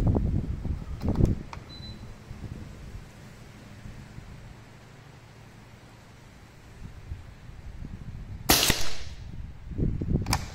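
Two sharp pneumatic cracks from a Foster F290 bullpup PCP air rifle in 6.35 calibre, one near the start and one louder near the end, each followed by a faint impact-like tail, with quiet outdoor hiss between them.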